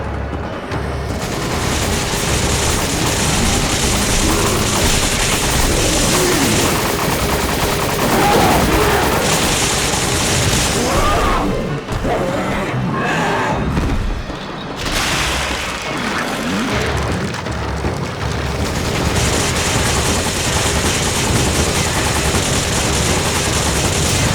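Gunfire and explosions in the video game Resident Evil 5 run almost continuously, loud dense bursts and booms with a few brief lulls, forming a sustained heavy barrage.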